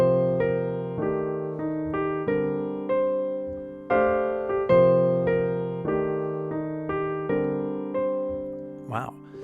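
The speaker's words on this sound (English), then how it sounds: "I start my arpeggio descending" Descending arpeggio over a 2-5-1 progression on a keyboard-like instrument, a long series of rhythmic struck chords and notes decaying between attacks, close and clear, with a short voiced exclamation at the end.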